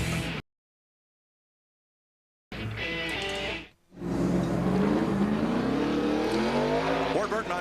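NASCAR race car on a qualifying lap at Martinsville, Virginia, in the 2004 Subway 500 qualifying; engine roar and tire noise under announcer talk, broken by a stretch of silence, then a rising, shifting engine pitch.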